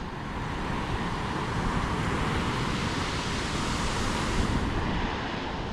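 Rough ocean surf at a beach in Huatulco, Mexico, a continuous loud wash of breaking waves, broad and hissing, with a slight swell near the end and no voices.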